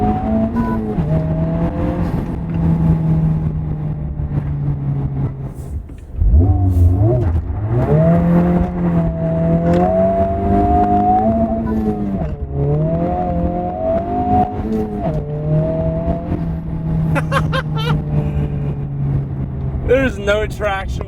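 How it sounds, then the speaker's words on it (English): A 2023 Honda Civic Type R FL5 turbo engine with an upgraded air intake revs and pulls repeatedly on a salt-covered winter road, loud and close from inside the car with a window open, rising and falling with turbo whooshes, while a person talks over it. "the intake definitely enhances the blow-off valve sound"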